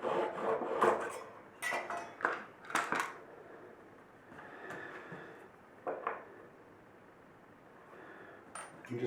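A blade cuts a small clay rod into guitar fretboard markers, making scattered close scraping clicks and short rasping strokes separated by quiet pauses.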